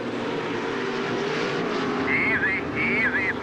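Two-wheel-drive off-road race trucks roar around a dirt track at the 2009 LOORS Challenge Cup, a continuous loud engine drone with rising and falling whine as they pass, under a commentator's voice.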